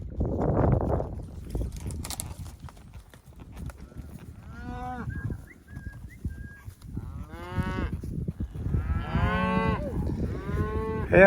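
Several cows moo loudly and repeatedly at Bears Ears, some calls drawn out and overlapping, over a windy outdoor background.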